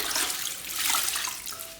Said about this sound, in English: I'm gonna rinse it out in my bucket.